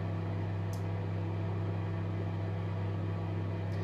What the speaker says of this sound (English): recording a microwave, spinning some noodles.